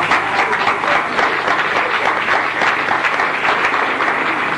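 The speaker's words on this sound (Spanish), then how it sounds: "yo agradezco los aplausos" Steady, dense applause from a large audience, loud and continuous throughout with no pauses.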